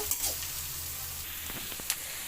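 Homemade street-style noodles seasoned with chilli, salt and soy sauce cook in a pan, giving a steady soft sizzle with a few brief stirring clicks, close and fairly quiet, no voices.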